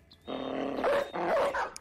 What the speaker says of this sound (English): Release the dog.